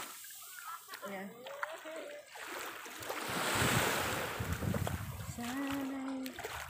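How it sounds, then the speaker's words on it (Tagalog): Ocean waves wash and roll onto Sibulan Beach in the background, swelling in the middle, while people talk over the surf outdoors. "Ganda ng hampas ng alon."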